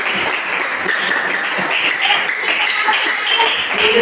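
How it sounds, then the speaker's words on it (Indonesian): An audience claps for Dedi at a teacher-training session, a dense, steady patter of many hands that holds for the whole stretch, fairly loud and with no talk over it. "Tepuk tangan dulu buat Dedi."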